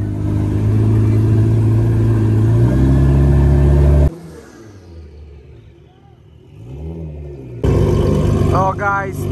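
A Nissan GT-R drag car at a drag racing event revs hard, a loud rasping engine holding then climbing before cutting out, with crowd noise and talking in the following seconds and another burst of revving near the end.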